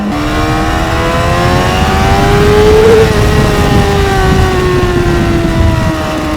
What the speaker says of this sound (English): once you get to rev this bike out